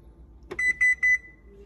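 A kitchen timer is set for 20 minutes while freshies are made, giving a short click followed by three quick, clear electronic beeps, close and fairly loud, with no talking.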